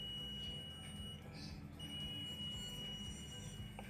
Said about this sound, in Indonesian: Di sini muncul alarm dan ada bunyi dari buzzer.